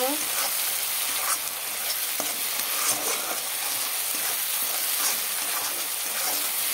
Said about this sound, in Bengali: দেখো বন্ধুরা এখানে তেল ছাড়তে শুরু করে দিয়েছে, আর একটু কষিয়ে নেব।